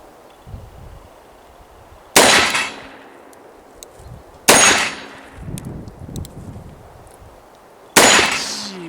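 .44 Magnum revolver fires three loud, sharp gunshots spaced a few seconds apart, each with a bright crack and decaying ringing tail, with quieter shuffling between shots.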